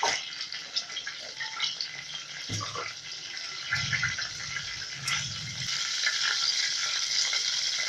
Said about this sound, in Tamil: கடுகு ஆட் பண்ணிக்கிறேன்.